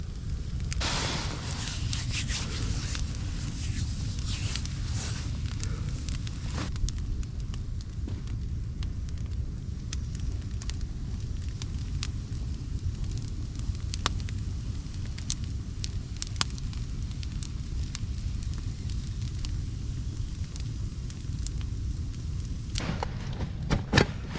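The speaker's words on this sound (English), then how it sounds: "Oh, that fire feels great." A campfire burns at a survival shelter on a bitterly cold night around -9°F, giving soft, steady crackles and scattered pops over a low, constant rumble with no talk.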